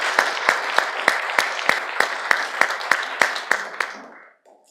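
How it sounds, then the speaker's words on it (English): Applause at a county tourism industry event, a crowd clapping in a strong, evenly pulsing rhythm, loud and close, then tapering off and fading to silence at the end. "so we can give you a little round of applause"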